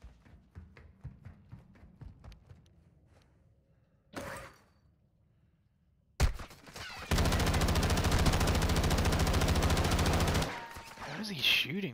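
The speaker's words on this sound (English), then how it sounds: "How is he shooting me?" Gunfire in Warzone 2 during a duos match on Ashika Island: a sparse burst of shots first, then a long loud sustained stretch of rapid automatic fire lasting several seconds, with scattered other sounds before and after.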